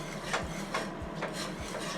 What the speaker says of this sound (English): With our whisk, we're going to blend this together.